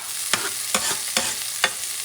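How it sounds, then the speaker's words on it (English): Chopped green onions sautéed with tomatoes and eggs for a stir-fry, a hiss of sizzling broken by four evenly spaced scraping stirs of the spatula. "Saute this baby very well, okay?"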